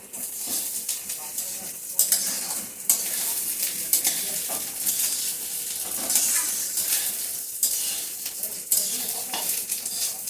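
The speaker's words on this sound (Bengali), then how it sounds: "আর 7 মিনিটের মতো আমি চালটাকে একটু ভেজে নিচ্ছি" Rice fried in a pan for jeera rice with a few peppercorns, a loud continuous sizzle close by, punctuated by repeated stirring scrapes against the pan, with no voices.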